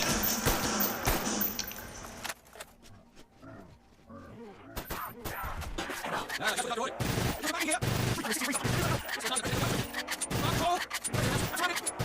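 Rapid gunfire in Call of Duty: Black Ops Zombies mode, with dense bursts and repeated shots over growls and game effects, a quiet lull near the start, then sustained loud shooting.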